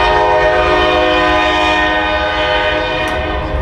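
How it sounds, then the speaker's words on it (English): Passing through Johnson City, a train sounds its horn in a loud, steady, sustained blast that holds for the whole stretch, with rumbling rail noise beneath it. "It's not a Johnson City video unless there's a train in the back."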